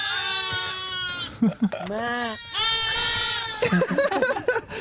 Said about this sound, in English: there has now been a video of sheep sounding like a synchronized choir